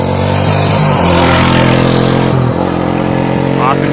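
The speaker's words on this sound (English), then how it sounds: "There's a little backfire out of her today" A Yamaha Warrior 350cc quad engine runs steadily and loud close by, with a sputtering, popping backfire edge; a voice talks over it throughout.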